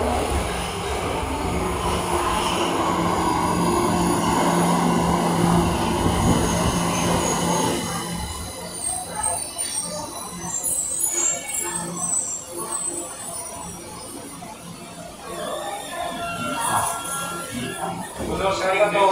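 A Tokyo subway train bound for Asakusa rumbles and screeches into a station, its roar fading into quieter platform noise with faint chimes and distant voices.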